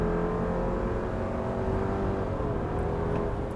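A 2022 Subaru Forester Wilderness with a CVT drives at steady cruising speed, its engine giving a continuous droning hum and whir with smooth, gradual shifts in tone, heard close from inside the cabin with no talk.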